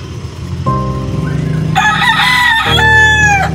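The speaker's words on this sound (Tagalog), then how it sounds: "So, maingay talaga ang manok." A rooster crows loudly and close by, a single long, strained call rising and then trailing off, with some clucking at the start and no talk over it.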